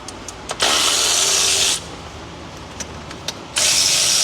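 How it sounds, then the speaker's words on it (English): A ratchet loosens tight bolts on a blown 3.7 Dodge Dakota engine in two loud, close, sustained whirring bursts, separated by a quieter gap of light clicks and taps. "I'm gonna hit you guys with a ratchet in a second"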